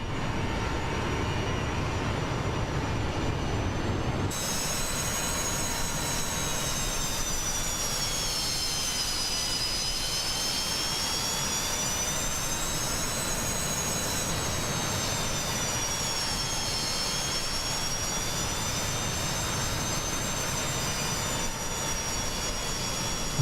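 Boeing 727-200F jet engines roar steadily in flight in MSFS 2024, a loud continuous whine with a slowly wavering high tone.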